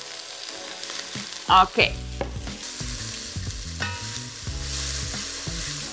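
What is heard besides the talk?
leek and onion sautéing in a pot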